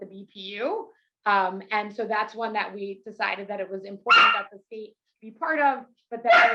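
A pet dog barks a few times in the background of a home video call about New Jersey's clean energy programs, short yaps popping up under steady, continuous speech.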